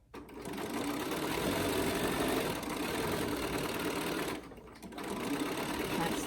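A sewing machine stitches the seam of a pocketed face mask with a 1/4 inch seam allowance, sewing over a pin. The motor hums steadily and loudly up close, with a brief pause before it starts again.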